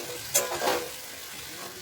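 Boiled potatoes and peas poured onto spiced masala frying in oil for ghugni, giving a brief thick splash and a swell of sizzling, then a softer steady fry with light stirring.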